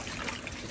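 Water pours in a soft, steady trickle into a container of diluted feed for a small potted plant, a brief, fairly quiet liquid stream heard alone.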